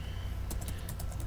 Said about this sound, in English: Oh, I thought I was typing.